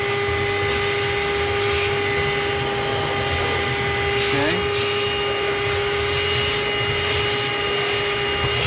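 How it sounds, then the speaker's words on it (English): A shop vac sucks ash out of a Pit Boss 820SF pellet smoker, its loud, steady motor whine and rushing airflow running unbroken from start to finish. "the shop vac works excellent for this"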